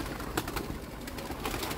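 A pair of doves coos in short, soft repeated calls close by, set against steady outdoor background noise.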